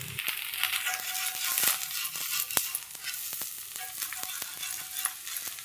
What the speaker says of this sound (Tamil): ஒரு பக்கம் வேகட்டும். திருப்பி போட்டு திருப்பி வேகணும்.